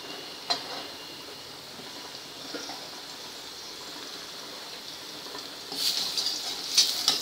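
Tomato puree fries in oil in a pan for pav bhaji, giving a faint, steady sizzle and hiss with a few small pops and a slightly livelier crackle near the end.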